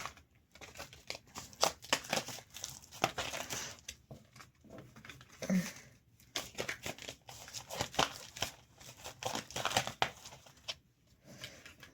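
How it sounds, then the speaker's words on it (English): A deck of playing cards is reshuffled close by in quiet, uneven bursts of riffling and papery crinkling, and no one speaks. "Put these cards back in. Let me reshuffle all these, actually."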